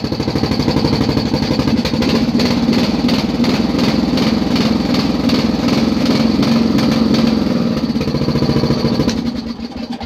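A mud mower engine runs steadily with a raspy, buzzing exhaust leak, loud and close, its rough pulsing note continuing without a break and easing off slightly at the very end.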